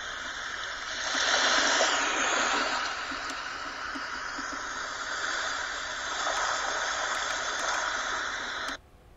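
Running water sound played through a small device's built-in speaker, a steady broadband rushing hiss lasting several seconds before cutting off abruptly, with no talk over it.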